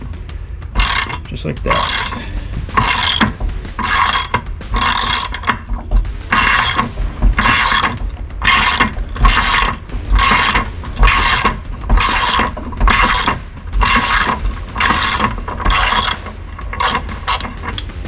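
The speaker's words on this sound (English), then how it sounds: "Grab our ratchet here, just like this," Ratchet turning the prop nut on a Mercury Optimax 225 outboard, a steady run of loud, close clicking strokes in an even rhythm, with a short spoken remark.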